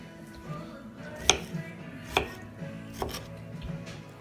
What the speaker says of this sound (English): We're just dicing these up.